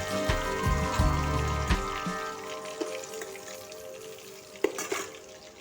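Fish sizzling in hot oil in a pan while cooking a mustard fish curry, a steady crackling fry with some utensil clatter and stirring, loudest near the start.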